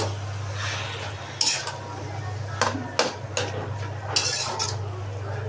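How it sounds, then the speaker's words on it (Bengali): Spinach frying in a large wok is stirred with a metal utensil, giving several clattering scrapes and knocks against the pan over a steady low stove hum. "এই তো পাশের চুলায় পালং শাক ভাজি করে নিচ্ছি"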